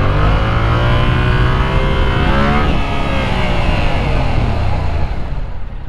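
A Yamaha R7 motorcycle engine revs hard and close, its pitch climbing, dropping sharply, then rising again, loud and continuous with no voices.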